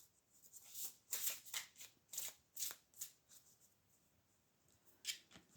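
Deck of cards shuffled for a tarot-style reading: a quiet run of crisp riffling bursts, about eight in a steady rhythm, then a pause and one more flutter, close and alone without speech.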